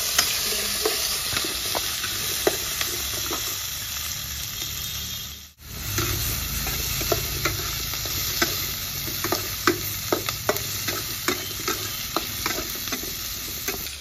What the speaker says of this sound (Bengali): দিয়ে দেবো মহরি, 2টো শুকনো লঙ্কা, ক্যাপসিকাম আর পেঁয়াজ।